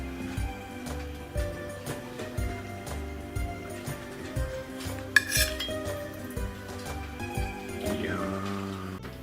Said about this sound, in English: Now just cut up pieces and eat forever